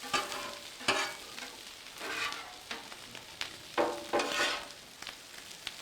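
Brisket meat sizzles on a Blackstone griddle, with fajita seasoning, red peppers and jalapeños nearby. A continuous hissing fry is broken by repeated scraping spatula strokes and clacks in an uneven rhythm.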